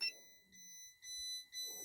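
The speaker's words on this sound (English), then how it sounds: "because that's the seatbelt warning light." A Fiat 500's seatbelt warning chime sounds inside the car, a series of clear electronic beeps in evenly spaced bursts, close and fairly quiet, with no talk over it.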